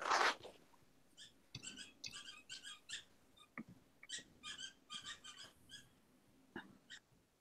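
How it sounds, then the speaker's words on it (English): A dog's squeaky toy is squeezed over and over in a quiet room, giving faint, high squeaks in quick uneven bursts with short pauses between them. "It's a squeaky toy."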